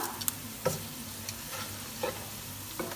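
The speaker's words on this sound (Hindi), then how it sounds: "और इसको भी इनके साथ हल्का सा फ्राई करेंगे" Onions frying in oil with curry leaves, three or four cloves and a teaspoon of cumin, a faint low sizzle broken by a few soft stirring scrapes, steady and quiet with no talking.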